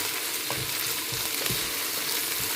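Drumstick leaves sauté in a hot pan, giving a dense, continuous sizzle with soft periodic stirring thumps as a spoon turns them, close and fairly loud.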